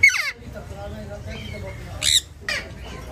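An Indian ringneck parrot lets out sharp, shrill squawky calls in short bursts at the start and again near the end, close and loud, with quieter murmuring between.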